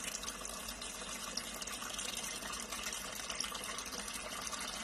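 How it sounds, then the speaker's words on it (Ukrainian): Pump running while a bee feeder is filled with syrup, a faint steady hiss of flowing liquid and motor noise, continuous and even throughout with no speech. "Вмикається насос."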